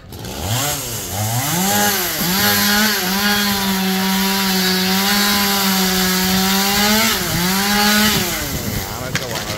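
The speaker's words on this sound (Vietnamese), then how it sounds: "chú mình bắt đầu chuẩn bị cưa nè các bạn" A chainsaw cuts through a giant dipterocarp tree near the Tri Tôn district market in An Giang, its loud, close engine holding a steady high whine with brief pitch dips as the blade bites, running continuously throughout.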